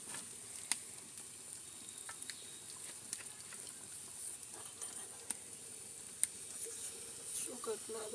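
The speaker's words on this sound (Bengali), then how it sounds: "পাতিলটা একটু ভেজা পাতিলে তেল দিয়ে ফুটবে" Mustard oil heats in a damp pot on a clay stove, giving a faint, steady sizzling hiss with scattered small pops and crackles throughout.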